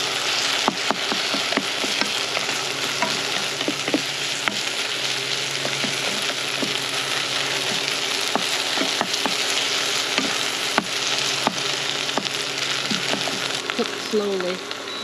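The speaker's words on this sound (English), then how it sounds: "And I add the egg in." Egg scrambled together with shrimp in a frying pan over medium heat, a steady close sizzle with frequent spatula taps and scrapes throughout, and a little speech in places.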